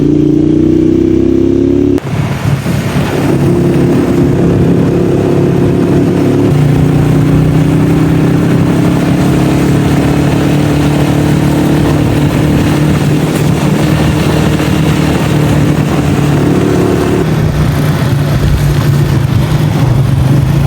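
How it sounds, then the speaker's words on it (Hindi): A motorcycle engine drones steadily while riding a mountain road in Neelum Valley, loud and close throughout. Its pitch shifts in steps as the gears and throttle change, with a brief dip early on and no voices over it. "बाइक स्लिप हो रहा है।"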